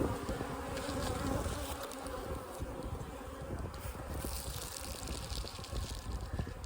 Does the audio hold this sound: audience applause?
no